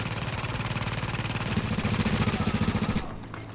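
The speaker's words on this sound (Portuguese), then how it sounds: "A torreta mata muito, cara." Automated turret in The Division video game firing rapid continuous bursts, a steady stream of gunshots that grows louder midway and then cuts off abruptly near the end.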